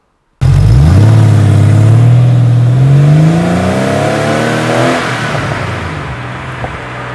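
A car accelerates hard onto Highway 407, its engine climbing loudly through rising revs, easing as it shifts up, then settling into a steadier cruising drone with road noise. No one speaks.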